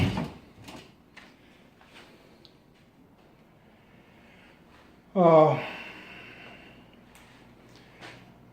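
A house drawer slides with one brief, loud rattling scrape midway through an otherwise quiet room, with a few faint knocks and handling sounds around it and a voice talking at low level.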